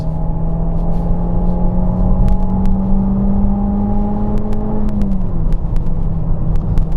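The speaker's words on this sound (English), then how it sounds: "I love this little engine, it's great." Citroen C4 VTS twin cam engine while driving on a quiet road, a steady loud humming drone that holds its pitch, then drops slightly as the revs ease, heard from inside the car with no talk.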